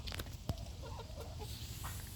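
A heavy meat chicken, a five-toed breed raised for harvest at four months, gives soft, low clucks on a farm, faint and scattered against a steady background hiss.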